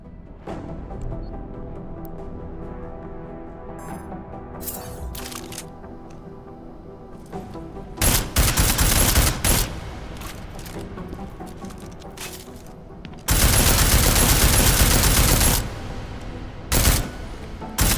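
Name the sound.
gunfire rounds at an armored target in a video game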